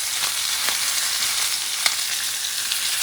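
Pork loin sizzles on a cast iron griddle under aluminum foil, a steady close frying hiss with a few faint pops, no voices.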